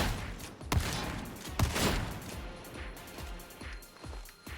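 Booming bolt gun shots in a video game: two heavy blasts about a second apart, then a run of lighter, evenly spaced shots, all over a continuous roar of background game noise.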